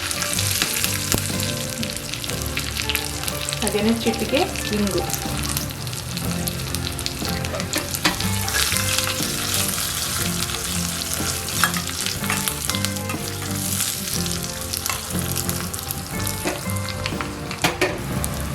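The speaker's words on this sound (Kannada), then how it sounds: "ಈಗ ಒಂದು 5-6 ಬೆಳ್ಳುಳ್ಳಿನ ಕ್ರಷ್ ಮಾಡಿ ಇಟ್ಕೊಂಡಿದ್ದು ಹಾಕ್ತಾ ಇದ್ದೀನಿ ಒಗ್ಗರಣೆಗೆ" Crushed garlic, dried red chillies, curry leaves and a pinch of asafoetida crackle in hot tempering oil for palak dal saaru, a steady loud sizzle with occasional stirring; a voice speaks briefly.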